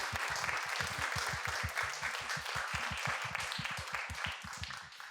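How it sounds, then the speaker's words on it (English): A symposium audience applauds the speakers with sustained clapping from a room of people, individual hand claps standing out near and sharp against the broader wash. "Please give our speakers a big round of applause again"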